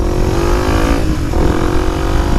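A motocross motorcycle with a noisy exhaust runs loud and close, holding a steady rough drone with a brief dip and rise in revs, no voices.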